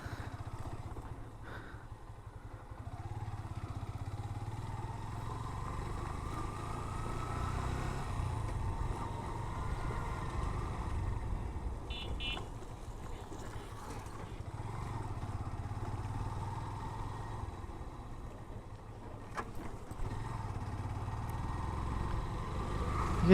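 A motorcycle ridden over a very bad, broken road gives a low, fairly faint engine drone that rises and falls over about twenty seconds, with occasional light clatter and bumps.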